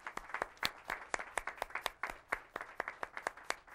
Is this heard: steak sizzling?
no